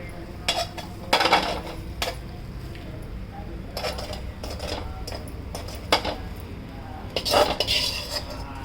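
A utensil clinks and scrapes against a metal pot while ingredients are mixed, giving irregular clattering strokes close by over a low steady background hum.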